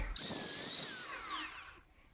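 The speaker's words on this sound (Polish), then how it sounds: "Drugie również wywiercone, także teraz tylko przymierzyć." A power drill bores a second hole during garden work, a short loud high-pitched whine that spins up sharply, holds for about a second, then winds down and fades, with no talk.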